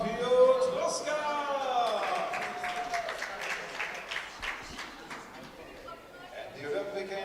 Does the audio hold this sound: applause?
yes